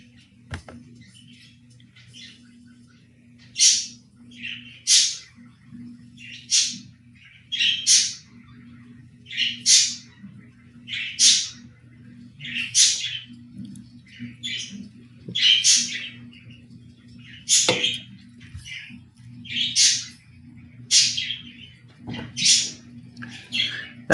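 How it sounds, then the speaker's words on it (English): Small bird chirping and squawking nearby in a steady series of sharp, repeated calls, sounding close over a low background hum. "That bird just never stops talking."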